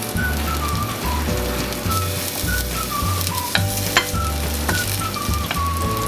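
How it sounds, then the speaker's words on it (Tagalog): Chopped onions sizzle and crackle steadily in hot oil in a pan for kare-kare peanut sauce, with a few sharp clinks of a utensil against the pan and a faint repeating whistle-like tone in the background. "First is we're gonna saute the onions."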